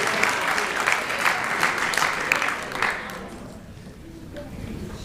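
Audience applause for a senior athlete receiving an award at a sports awards ceremony, a steady wash of clapping that swells then thins out toward the end.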